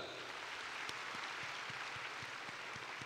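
Faint, distant applause fills a university graduation hall as a steady hiss of many hands with a few sharper claps poking through, with no voices.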